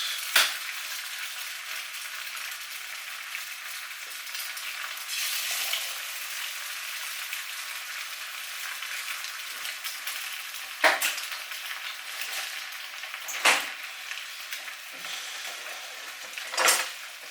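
Four eggs fry in a pan with a steady, close sizzle, broken by a few sharp clinks and scrapes of a utensil against the pan.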